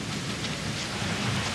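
Steady rain pours during a thunderstorm, a dense continuous hiss of drops with a faint low rumble beneath, heard without voices over a brief stretch.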